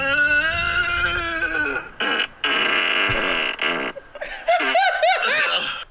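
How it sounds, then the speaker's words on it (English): A long, loud, buzzing fart is heard close, followed by moaning and snickering laughter from people nearby. "Oh, man. Great fart."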